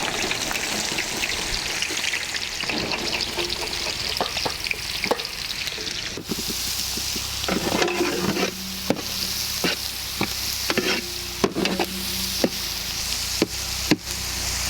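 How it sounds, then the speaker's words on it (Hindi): Finely chopped onions fry in hot oil in a bowl for a chicken do pyaza, a steady close sizzle broken by repeated scraping and clanking of a spoon stirring against the pan. "ऑयल गर्म होते ही हम लोग इसमें फाइनली चॉप्ड ऑनियंस ऐड करेंगे।"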